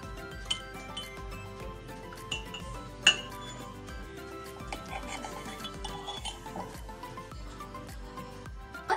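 A spoon clinks against a glass while dalgona coffee is stirred and mixed, giving a series of light, irregular metallic taps and rings, one brighter ping standing out, close and clear over quiet background.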